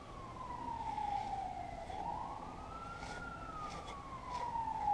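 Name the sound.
sirens in the background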